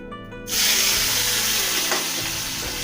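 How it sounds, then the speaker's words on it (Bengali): After a short pause, tomatoes hit hot oil with a sudden loud sizzle that stays steady and hissing, with faint stirring clinks underneath. "এই তেলের মধ্যে এবার টমেটোগুলো দিয়ে দিলাম"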